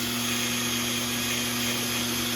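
A power drill fitted with a wire brush scrubs exhaust parts for a 2003 Yamaha Viper 700 snowmobile, giving a steady, continuous high whine at close range.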